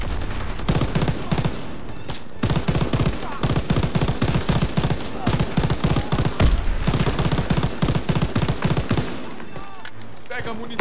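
Rapid bursts of machine-gun fire, loud and close, rattling almost continuously with short breaks, mixed with shouting voices.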